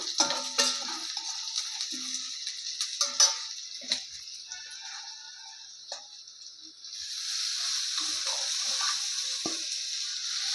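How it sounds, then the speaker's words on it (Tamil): Chopped fenugreek leaves added to softened onions in a pan, a soft hiss with scattered clinks and stirring taps, then a steady, brighter sizzle building up in the second half. "இப்போது கட் பண்ணி வச்சுருக்கிற வெந்தயக்கீரையை போட்டுடலாம்"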